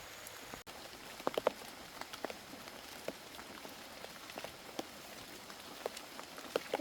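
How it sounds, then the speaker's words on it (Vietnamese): Heavy rain falls steadily, a soft dense hiss of drops on surfaces with scattered sharper taps and pattering, fairly quiet and without voices. "Trời mưa quá"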